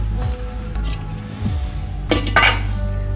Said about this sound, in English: You put the lid on it